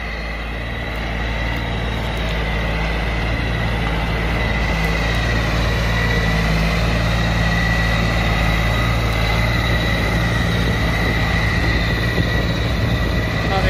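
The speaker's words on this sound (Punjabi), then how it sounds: "ਟਰੈਕਟਰ ਬਹੁਤ ਵਧੀਆ ਚੱਲ ਰਿਹਾ ਜੀ" A tractor engine runs with a cultivator, making a loud, steady mechanical drone with a faint high whine. It stays even throughout with no voices.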